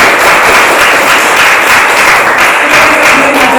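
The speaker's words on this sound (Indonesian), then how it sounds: "Baik, tepuk tangan." Loud, dense applause from a class of students after a group presentation in a school lesson, a steady wash of clapping filling the room.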